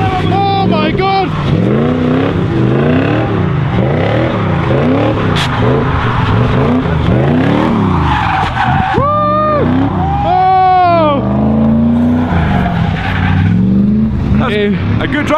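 A drift car's engine revs hard and rises and falls repeatedly while tires squeal in long screeching skids during a drift competition heat, loud and close, with excited voices shouting over it.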